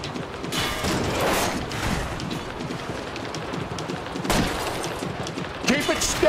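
Repeated gunshots ring out during a car chase through a tunnel in LA Noire, loud and echoing over a continuous roar of engine and road noise, with sharper shot peaks near the start and end.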